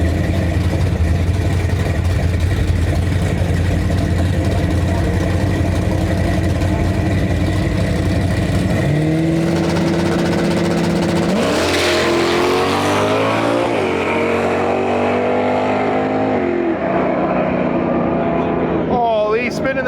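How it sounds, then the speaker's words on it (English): Drag race between a Fox body and a Barracuda at a dragway, engines roaring loud and continuous as they launch and rise through the gears, tires spinning down the track, with an announcer talking over the noise. "Spinning the tires the whole track."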